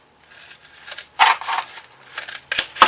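Scissors snip into folded card along a score line for a handmade box card, several short, crisp close-up cutting crunches with brief pauses between them, heard alone.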